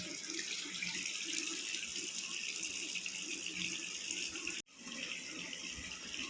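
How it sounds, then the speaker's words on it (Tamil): Water gushes fast and steady from a repaired household tap into a sink, a loud continuous rush that briefly cuts out near the end before resuming, with no voices. "நல்ல ஸ்பீடாக வந்து இந்த மாதிரி தண்ணி வரும்."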